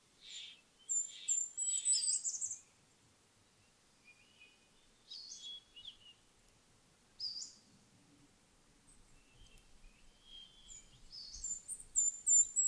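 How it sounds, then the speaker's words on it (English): Birds sing in trees near a lake, with several bursts of high chirping and short tweeting phrases separated by quiet gaps. The calls are moderately close and clear against a soft, faint low rumble. "You are surrounded by clusters of trees, populated with singing birds, teeming with wildlife."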